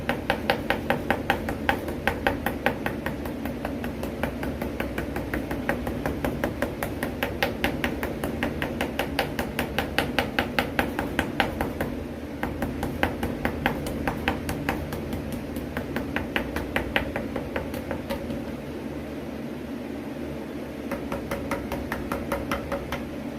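A ball peen hammer taps steadily to cut out a gasket, giving dozens of quick, close, even light strikes in a steady rhythm that keeps on for over twenty seconds, slowing near the end.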